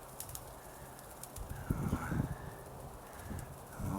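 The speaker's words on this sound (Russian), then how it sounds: "Вот она порхает." A pigeon takes off and flutters in flight outdoors on a mildly windy January day, its wingbeats a brief burst of soft flapping near the middle against a quiet background hiss.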